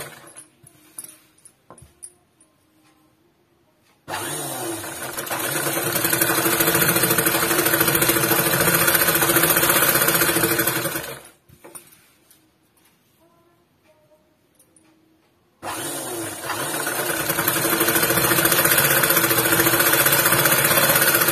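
A sewing machine stitches a folded pleat in fabric, its motor whirring loudly in two long steady runs separated by a quiet pause, with faint handling sounds in between.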